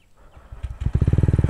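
A TVS Ronin 225 motorcycle on a mountain road builds from a quiet start into rapid, evenly pulsing engine beats that grow louder and faster as it accelerates, close and alone.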